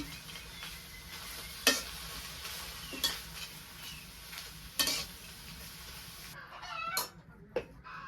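Salted leafy greens are stirred in a pan over a low sizzle, with sharp metal scrapes and clacks from the utensil every second or two. A chicken clucks faintly nearby.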